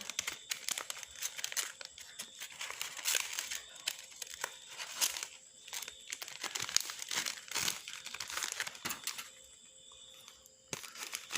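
Thin plastic zip bag crinkling and rustling in repeated bursts while small homemade cold crepes with jam are packed for sale, close and fairly quiet, with no talking.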